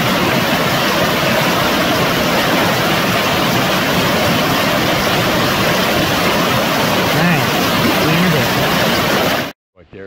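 Rocky Brook Falls, a waterfall along the Dosewallips River in Washington, roars as a loud, steady, close wash of falling water that cuts off abruptly at the end.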